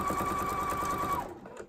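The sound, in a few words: sewing machine attaching quilt binding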